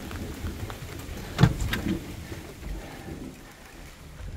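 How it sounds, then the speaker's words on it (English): Rain falls outside a house as a steady, diffuse patter with a sharper thump in the middle. There is no speech. "Just in time to get out of the rain"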